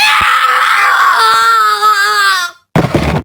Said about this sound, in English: Then, a horrific scream.